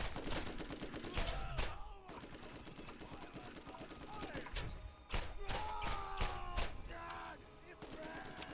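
Rapid, sustained gunfire in the video game Borderlands, with dense bursts and repeated shots rolling through the whole stretch at a steady, moderately loud level, punctuated by sharper cracks and thuds.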